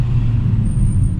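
Stage 1 BMW 335i exhaust burbling with a steady low rumble, loud and close, with no talk over it.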